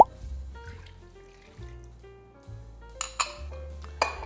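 Vinegar poured into a soy sauce container to rinse out the leftover dregs while making adobo, giving a quiet liquid pour with drips, a few small clinks of the container, and no talking.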